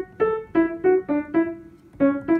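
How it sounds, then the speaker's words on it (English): Cello voice played on a keyboard, about eight short bowed-style notes in an uneven rhythm, close and clear with no talking. "So the cello is going to sound like this."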